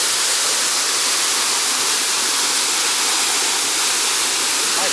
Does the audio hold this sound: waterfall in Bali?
yes